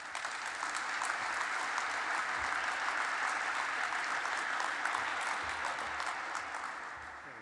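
An audience at an energy-policy keynote event applauds steadily to welcome National Security Advisor Tom Donilon, a dense, even clapping that swells slightly and then tapers off at the end, with no talking over it.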